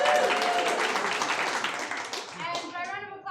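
An improv theatre audience gives a round of applause, a burst of close, dense clapping that tapers off near the end, with some cheering voices rising as it fades.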